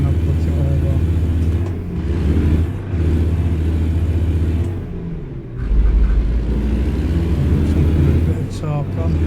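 A heavy truck in American Truck Simulator pulls away in third gear with a deep, continuous engine rumble that swells and dips under someone talking.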